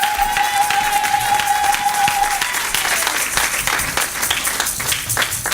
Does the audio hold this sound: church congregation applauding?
yes